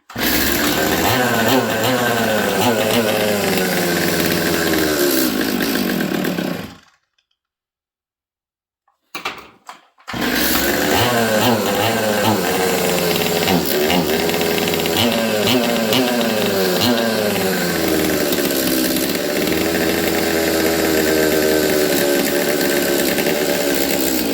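A Stihl MS200T chainsaw runs roughly and bogs, its engine droning loud and close with wavering revs, cutting out into silence for a few seconds before starting up again and running unevenly.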